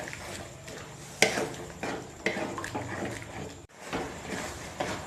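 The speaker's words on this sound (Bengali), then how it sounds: "মশলা আলু মটর একসঙ্গে মিশিয়ে 2 মিনিট মতন কষিয়ে নেব ভালো করে।" Spiced potatoes and boiled peas being stirred together in a pan for ghugni, with soft scraping and a few sharp clinks of a spoon against the pan, fairly quiet and close.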